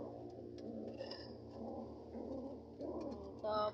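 Pigeons coo in short soft throaty bursts, several calls in a row close by, with a quiet voice murmuring in between.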